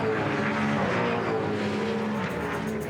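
A pack of 2007 V8 Supercar race cars roars around Phillip Island, a loud, continuous, dense engine drone from several cars at once with no clear pass-by peaks.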